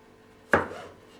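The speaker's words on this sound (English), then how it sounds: "That is the oddest sound to come from a knife." One sharp crunching cut as a serrated knife slices through a potato for hash browns, a single close, sudden chop that fades quickly into quiet.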